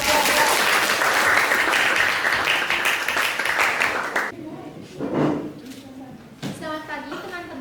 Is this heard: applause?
yes